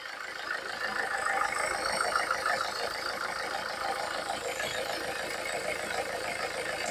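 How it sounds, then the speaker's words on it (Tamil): An engine idles steadily nearby with a constant rattling hum, no voices, holding an even level throughout. "இதோ வண்டியோட இன்ஜின் ரூம் காமிக்கிறேன் பாருங்க இன்ஜின் ரன்னிங் காமிக்கிறேன்"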